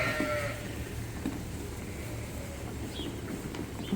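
Pregnant Dorset ewes bleat at feeding time on a sheep farm, several calls rising over a low background murmur of the flock, moderately distant.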